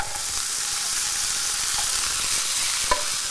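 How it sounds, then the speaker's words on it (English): Chicken strips sizzle and brown in a hot pan, a constant bright hiss with a few small pops and a brief scrape of stirring near the end, close and alone. "I'm just going to make sure that's browned off before we add any of the other ingredients."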